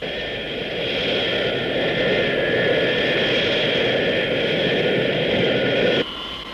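Airplane engine roar on a landing approach, a steady loud broadband whoosh with a high whine on top that cuts down abruptly near the end.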